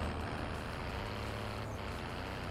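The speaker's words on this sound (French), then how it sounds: "On va lui prendre son camion, les mecs." A truck engine in the video game Warzone rumbles steadily and loudly, a continuous low drone with no speech over it.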